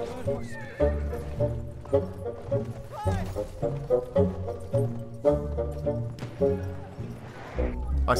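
In a video game, a horse named Jessica runs with steady clip-clop hoofbeats and repeated loud whinnies and snorts close by, while someone talks over it.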